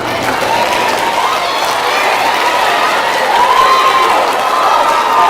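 Middle school students applaud during an eighth-grade presentation, a dense, steady wash of clapping from the crowd that runs throughout with some cheering mixed in, fairly loud and without pauses.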